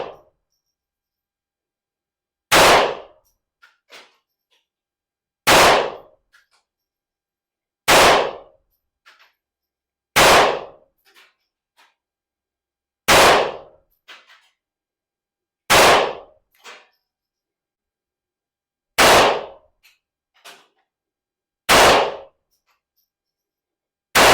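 Single gunshots at an outdoor shooting range, fired from a gun carrying an Olight PL Turbo Valkyrie weapon light: eight loud, sharp cracks spaced a few seconds apart, each followed by a faint echo or clink, with quiet between.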